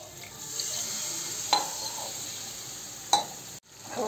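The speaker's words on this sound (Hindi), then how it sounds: "अब हमारे मसाले की अच्छे से बुनाई हो रही है" Spices frying in a pan for Maggi noodles, a steady close hiss of sizzling with a couple of brief clinks and scrapes from stirring, and no talking.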